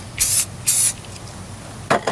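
A spray paint can sprays in short hissing bursts: two bursts of about a quarter second each, then two briefer puffs near the end. The hiss is close and loud, and there is no talking.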